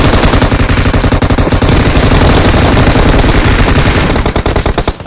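Dense, loud automatic gunfire from a shooting video game, rapid bursts rattling almost nonstop with only a brief thinning at the end.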